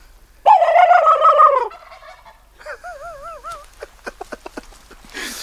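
A wild turkey gobbles loudly and close during a spring bow hunt in Oregon, one long rattling call followed by a shorter warbling gobble, then scattered soft clucks and rustling.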